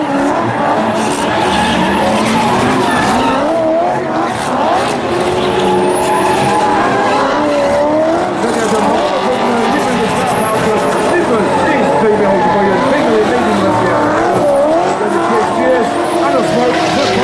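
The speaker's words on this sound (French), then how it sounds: "Regardez ce que Lars Verbraeken est capable de faire avec la BMW M3." A BMW M3 drifting at an indoor expo drift show in Luxembourg, tires squealing loudly and continuously as the engine wails and revs up and down, with a commentator talking over the noise.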